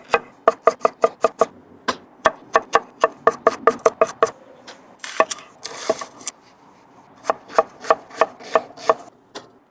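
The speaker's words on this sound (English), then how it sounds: "now I'm going to prep my veggies" A knife chopping celery, carrots and onion on a wooden board in quick, even strokes, with a short pause for scraping partway through before the rhythm resumes, loud and close.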